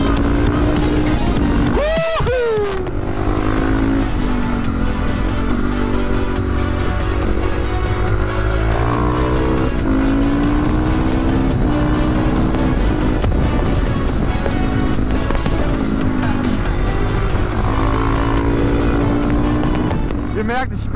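A KTM EXC 450 dirt bike with an Akrapovič exhaust and its dB killer removed roars continuously, its engine note rising and falling as it revs, loud and close throughout with a brief sharp blip early on.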